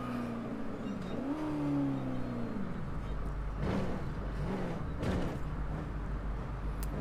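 A truck towing an auto-locking car trailer pulls in to park, its engine note rising and falling as it maneuvers, then settling into a low, steady rumble.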